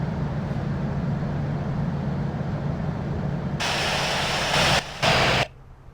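A simulated airliner in the Infinite Flight game lands: a steady roaring jet engine drone, then a sudden louder broadband burst, a brief dropout, and an abrupt cut to quiet.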